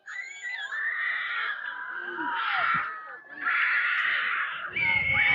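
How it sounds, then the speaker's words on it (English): Distant screaming drifts over from another field at a youth softball game, high wailing voices rising and falling in long stretches, with some nearby talk underneath. "You hear some screaming at the other field."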